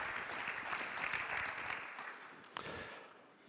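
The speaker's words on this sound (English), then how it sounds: "Let's give him a welcome as well with a round of applause," Audience applause at an energy conference welcomes a panel moderator, a steady dense wash of clapping that thins and fades toward the end.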